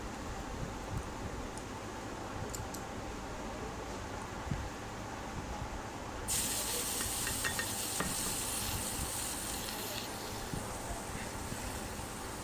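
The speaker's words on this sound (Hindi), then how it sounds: "तो सिंपल ही दाल फ्राई करूँगी।" Dal fries in a pan without garlic or onion, a faint continuous sizzle with soft stirring scrapes that grows brighter and louder about halfway through.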